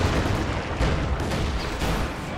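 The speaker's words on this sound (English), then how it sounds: "He got a Katusha. Support artillery." Katyusha rocket artillery firing in Company of Heroes 2, a dense continuous rumble of launches and booms with a few sharper bursts, loud and without talking.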